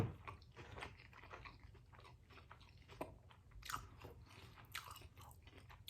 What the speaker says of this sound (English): I gotta chew